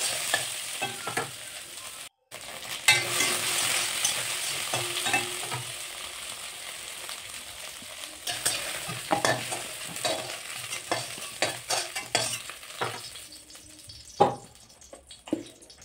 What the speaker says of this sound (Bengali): সজনে ডাঁটা সবজিটা একসঙ্গে দিয়ে খানিকক্ষণ নাড়বো, এটা বেশি নাড়বো না, খানিকক্ষণ নাড়বো।